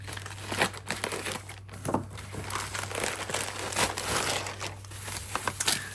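Plastic packaging on a Christmas unboxing item being worked open, a close, continuous run of crinkling and crackling with irregular sharper snaps, no talking heard.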